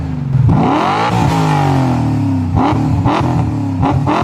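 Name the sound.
BMW M5 E39 engine revving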